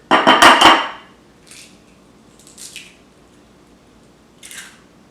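Two eggs are cracked and mixed with cheese for keto bread, opening with a loud cluster of sharp cracking and clattering taps, followed by three faint, soft scraping bursts at wide intervals.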